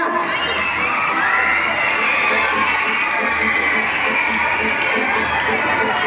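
A large outdoor crowd at the opening of a ring-toss game at a school event keeps up continuous loud clapping and cheering, with children shouting and chattering mixed in throughout.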